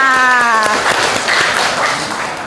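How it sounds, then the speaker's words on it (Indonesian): Applause from a group in a classroom lesson, a dense wash of clapping that fills the clip loudly after a brief spoken call at the start. "Tepuk tangan untuk kita semua."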